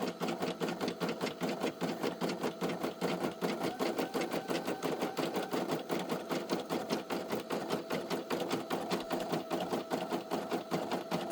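A Brother SE1900 embroidery machine stitches a felt patch, a fast, steady mechanical chatter of needle strokes running continuously at close range with no talk.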